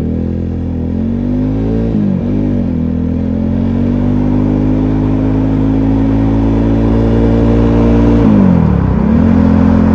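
An Italika Vort-X 300R motorcycle engine runs loud and close under a steady rumble, dipping briefly twice as the rider eases off and picks back up.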